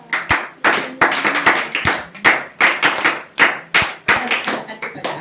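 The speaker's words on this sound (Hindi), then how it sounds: "बजाओ, ताली बजाओ" A room of listeners at a Ramayana lesson claps in irregular bursts, each sharp burst of hand claps rising quickly and fading before the next, with a voice heard in between.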